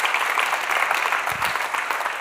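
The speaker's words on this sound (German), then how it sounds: "Applaus für euch" A room full of attendees at a patient information event claps steadily, a continuous, even patter of applause with no speech over it, sustained throughout.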